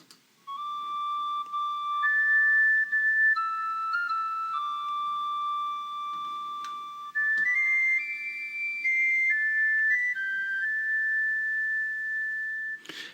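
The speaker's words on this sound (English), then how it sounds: "This is the penny whistle." A pure, breathy penny whistle plays a simple melody of sustained notes, clear and close, with brief pauses between phrases.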